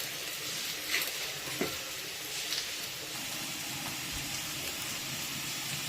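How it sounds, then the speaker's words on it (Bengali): Ginger paste going into a pot of frying food for winter khichuri, with a steady broadband sizzle throughout and a few brief louder stirring scrapes, no talk. "এই যে আদা বাটাটা দিয়ে দিচ্ছি।"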